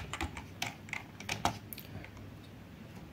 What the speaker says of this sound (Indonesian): Kemudian kita ketikkan kembali ping